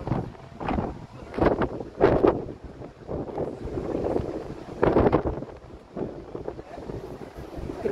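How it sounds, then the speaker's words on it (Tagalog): Strong gusty wind buffets the microphone in loud rumbling bursts at a seaside skywalk on Busan's coast, rising and falling over a low background of engine or water noise. "Napaka-windy"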